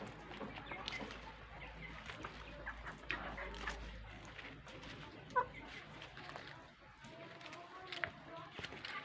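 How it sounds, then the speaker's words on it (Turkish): A rooster clucks now and then in a backyard coop while pecking at sesame seeds, with a low engine hum early and a person talking nearby over the light scratchy activity. "Horoz efendi"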